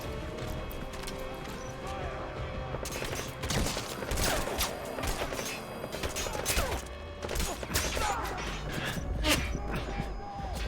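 Gunfire in the video game Metal Gear Solid V: repeated sharp shots and bursts crackle over a busy game soundscape for several seconds, moderately loud, mixed with clatter and impacts.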